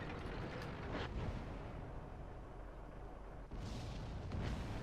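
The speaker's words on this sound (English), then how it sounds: "Is that an arty shot?" An artillery shot booms in World of Tanks amid a continuous low rumble of battle, with a sharp burst near the end over the ongoing background noise.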